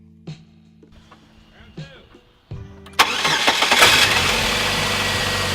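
A Pontiac Sunfire with an overheating problem cranks and starts after a few clunks and taps, the engine catching loudly around the three-second mark and settling into a steady idle, with speech faintly present.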